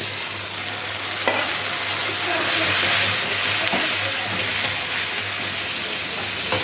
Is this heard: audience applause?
no